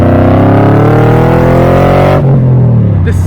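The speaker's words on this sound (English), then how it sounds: "that HSV that you know has that heart-wrenching V8 of an engine, and you hear it instantaneously" A modified Holden HSV ClubSport R8 with an LS3 V8, aftermarket headers, cats and a full catback exhaust roars loudly as revs climb steadily, then abruptly drop into a deep burbling note, close and unbroken.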